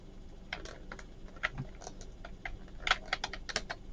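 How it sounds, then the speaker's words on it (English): Rapid keystrokes on a computer keyboard, a cluster of close, crisp clicks in irregular bursts with a few heavier taps, alone in a quiet room. "the down arrow key on the keyboard."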